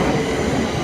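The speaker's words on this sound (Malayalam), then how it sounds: "ട്രെയിൻ വന്ന് ഗൈസ്" A train pulls into a station platform on a service to Brighton, a brief, loud, steady rumble of rolling wheels and carriages close by.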